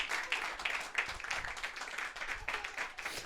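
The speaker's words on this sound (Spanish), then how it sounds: "den un aplauso al Señor" A church congregation claps in a steady, rhythmic unison beat for several seconds, loud and full, with voices faintly mixed in beneath the clapping.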